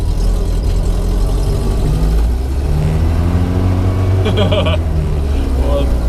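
A 1959 Moskvich 402 car engine pulls away, a steady low rumble with rising revs running close and loud under people talking.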